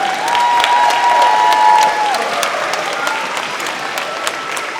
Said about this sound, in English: Please give this amazing group of BIS military students a round of applause.